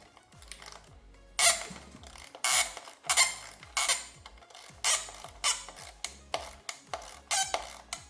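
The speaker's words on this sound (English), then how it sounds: "Got my 8mm socket with a very small ratchet." A very small ratchet with an 8mm socket turns a fastener on a 2025 Ford Expedition Active 4WD SV 3.5L engine, giving repeated close bursts of rapid clicking separated by brief pauses.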